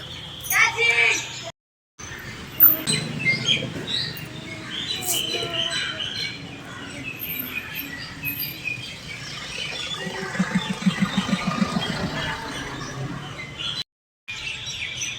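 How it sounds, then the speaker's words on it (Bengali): Birds flying back to their nests at dusk over an open field chirp and squawk faintly in the distance, scattered calls beneath a person talking nearby. "পাখিরা সব বাসায় ফিরছে"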